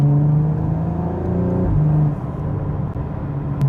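A Volkswagen Golf R's engine and exhaust drone steadily from inside the cabin while driving, with a low, continuous rumble and a shifting tone partway through; there is no talk over it.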